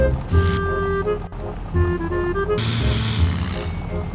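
Slow car's engine in the mobile driving game Car Parking Multiplayer 2: a buzzy, droning motor tone that rises and falls in pitch with short breaks, mixed with a hissy background wash.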